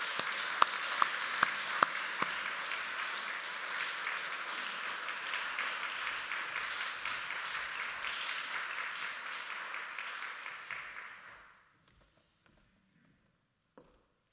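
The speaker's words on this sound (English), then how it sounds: "let's extend a warm welcome and a round of applause and welcome Professor Michael Cameron to the stage" Lecture audience applauding as a professor is welcomed onstage, sustained warm clapping with a few sharp close claps early on, then fading out quickly into near silence.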